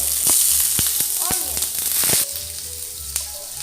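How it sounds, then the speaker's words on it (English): Onion sizzles and crackles loudly in hot oil in a wok, with sharp pops over a steady frying hiss that softens slightly partway through, heard up close with no talking. "now after heating the oil in our wok, we have to add onion"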